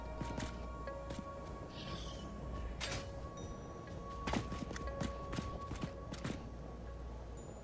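Creature footsteps in the video game Satisfactory, in a desert area: a series of sharp, irregular thudding steps over a low ambient hum, some loud and close, others softer.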